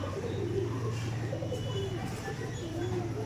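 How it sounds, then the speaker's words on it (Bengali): Pigeons coo softly and repeatedly at a pigeon seller's place, low throaty calls over a constant background hum, with faint chirps and no clear speech. "এই দেখুন পায়রাটা দেখুন"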